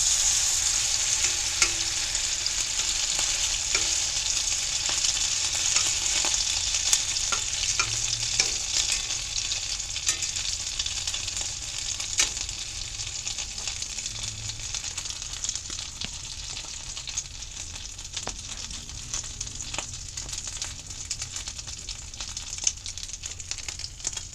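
Food spooned loosely into a hot cast iron pan sizzles and fries steadily in a greenhouse, a dense, continuous crackle with occasional scrapes and pops, fairly close and with no voices.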